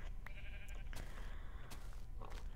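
Sheep bleating in Minecraft: a few short, nasal bleats over a steady low hum of game background, fairly close and clear with no talking.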